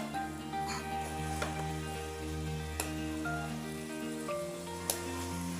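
Chicken liver (kaleji) frying in oil in a pan, a soft, steady sizzle with faint pops, quiet and continuous with no talking.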